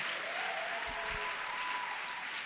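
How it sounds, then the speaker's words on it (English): Faint, distant clapping from school learners at a gender-based violence prevention dialogue, a soft steady patter heard from far off. "You can clap hands."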